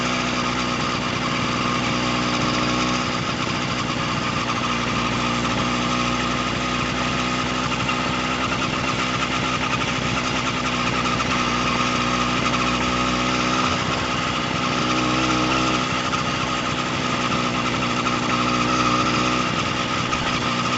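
A motorcycle with a modified exhaust pipe on a night ride along a lakeshore, its engine humming steadily and evenly for the whole stretch at a moderate level, with no talking.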